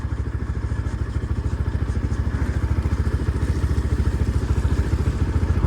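A motorcycle rides along a winding district road in Diktel, Khotang, its engine a steady, close, loud pulsing throb with a rapid even rhythm throughout.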